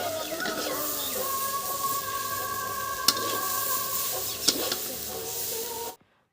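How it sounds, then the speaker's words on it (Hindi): Steady frying sizzle as vegetables are tempered in a pan with stirring, a continuous crackling hiss broken by a couple of sharp utensil clinks, cutting off abruptly near the end. "तो हमने जल्दी से सब्जी को छौंक ली"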